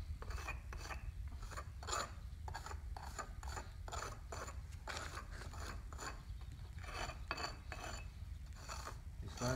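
A steel J bolt is rubbed along the mortar joints of an outdoor masonry fireplace, making faint, close, gritty scraping strokes in a steady repeating rhythm, with no speech.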